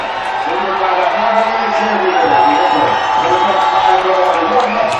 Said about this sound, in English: And as you can probably hear, the crowd plenty into this game.